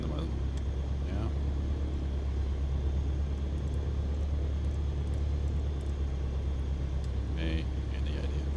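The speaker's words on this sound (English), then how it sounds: "Alright, good engine start." Cessna 152 piston engine running after start in Microsoft Flight Simulator 2024, a steady low droning rumble throughout with small clicks on top.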